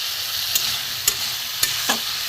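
Onion, garlic and spice masala sautéing in a pan for a papad curry: a steady, loud sizzle close up, broken by four brief scraping stirs of a spatula spaced roughly half a second apart.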